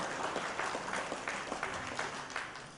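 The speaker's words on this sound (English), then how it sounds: "A big round of applause to the panelists." An audience claps for the panelists at a precious metals market discussion session, a steady, moderately distant round of applause with no talking over it.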